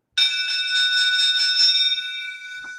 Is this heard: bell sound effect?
yes